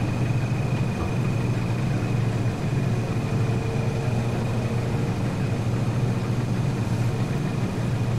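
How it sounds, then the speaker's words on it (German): Tractor engine idling in the Farming Simulator game, a steady low rumble with a constant whine above it, holding an even level without a break and with no talk over it. "Ey, der Motor ist auch an."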